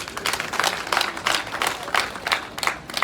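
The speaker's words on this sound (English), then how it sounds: "Give him a hand clap." Graduation-ceremony audience at a college of health sciences claps for the master of ceremonies, a dense, fairly loud patter of many hands with gentle surges in intensity, unaccompanied by speech.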